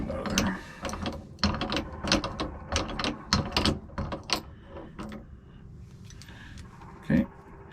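Small bolt being worked out of an outboard motor's tilt-and-trim control box, heard as close, irregular mechanical clicks and ratcheting taps in quick bursts, with a louder knock near the end.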